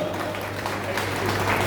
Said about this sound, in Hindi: साथ में जोरदार ताली से स्वागत